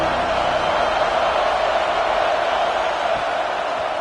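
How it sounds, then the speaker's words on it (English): A football game crowd cheers and roars in a steady, dense wash of noise that holds at an even level throughout, with no distinct voices standing out. "This crowd ready to make its presence known."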